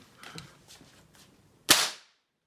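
A single sharp, loud crack of a percussion cap going off in an unloaded Spanish black-powder muzzleloading pistol, preceded by faint clicks and handling noises, then silence.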